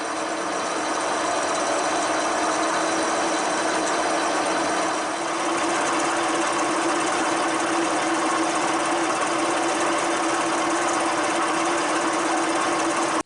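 A metal lathe fitted with a quick change tool holder cuts steadily, a loud continuous motor drone with a constant machining hum and no pauses.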